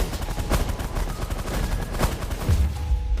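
Ship weapons in The Last Federation firing in rapid, uneven bursts of sharp shots over a busy rumbling background, with a heavier low thump near the end.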